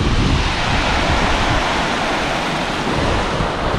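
A waterfall pours into a small, clear lake, giving a loud, steady broadband rush of falling water close by with no voices.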